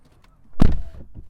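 Tesla Model 3 front door, about four years old with over 50,000 km, shutting once with a single close, solid thunk followed by a short rattle and decay.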